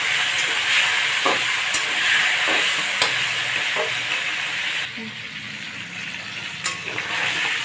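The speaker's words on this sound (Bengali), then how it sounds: "মাছের মাথা ভেজে নেব," Hilsa fish heads fry in oil with bay leaf, black cumin and dried chilli, a loud, steady sizzle broken by sharp clacks of a spatula stirring the pan.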